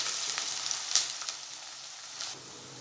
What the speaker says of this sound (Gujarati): અને કાંદાને થોડો ચડવા દઈશું।